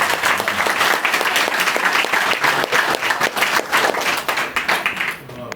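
An audience at a spiritual question-and-answer gathering claps loudly and continuously, dense applause from many hands filling the room before tapering off at the end.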